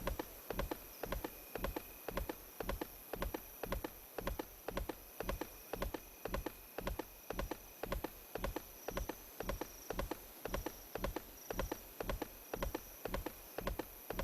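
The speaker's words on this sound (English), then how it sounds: "Yes, my horse just went up actual stairs." Horse hooves clomp up stairs in the online game Vanguard, a steady, evenly spaced series of sharp, close clip-clop steps over a faint constant hum, with no talking.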